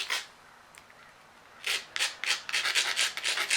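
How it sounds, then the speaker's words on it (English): Something rubs against the edge of an obsidian cobble to abrade it before flakes are knapped off. Short, gritty scraping strokes come close and in quick succession, sparse at first and then in a steady rhythmic run. "I've just abraded where I'm going to be taking my flakes."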